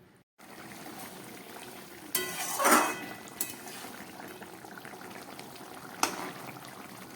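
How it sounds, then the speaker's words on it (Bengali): Fish curry gravy with onion, tomato, garlic and chilli boiling in a pan, a soft steady bubbling broken by a brief louder stir and a couple of light utensil knocks. "মাছের ঝোলটা ফুটে উঠেছে।"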